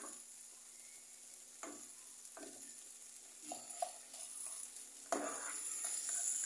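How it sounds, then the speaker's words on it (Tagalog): A ladle mashes canned sardines in a pan, making soft scraping and squishing touches over a quiet sizzle, with a few sharper clinks against the metal, near and fairly faint, no talk. "Pwede natin siyang pisain gamit ang sandok."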